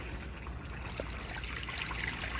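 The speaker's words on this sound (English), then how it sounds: "But here is a flush." A 1954 Standard Chinal stall urinal flushes on garden-hose water, a steady rushing trickle and splash of water that runs continuously for a few seconds, close and even in loudness.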